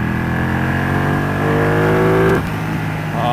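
A Ducati 1299 motorcycle with a Sprint air cleaner pulls hard, loud and close, its engine and intake note rising steadily before the throttle snaps shut and the tone drops away.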